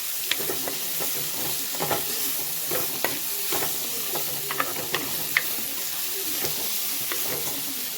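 Cauliflower sautés with salt in a hot pan, a continuous close sizzle and hiss with repeated scraping clicks as it is stirred, steady throughout.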